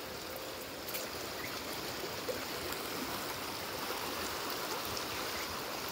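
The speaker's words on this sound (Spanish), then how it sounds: "Así está el río." A river flows steadily, a broad, even rush of water that stays constant and moderately faint, with no voices over it.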